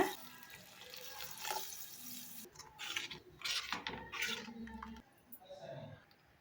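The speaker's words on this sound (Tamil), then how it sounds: "கொஞ்சம் தாராளமாகவே தண்ணி சேர்த்துக்கலாங்க." Water splashes and pours generously into a cooking pan for a plantain paneer kofta dish, with clinks and stirring sounds among the trickles, close by and moderately quiet.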